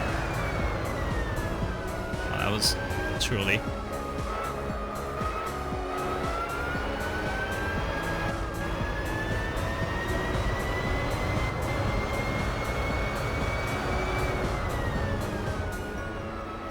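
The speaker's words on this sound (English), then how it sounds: "I was trying to use race cars and they make a lot of noise" Race car engine roaring steadily in the Gran Turismo 4 Spec-II mod, a loud sustained drone with rising and falling pitch sweeping across the whole stretch, briefly under a spoken remark.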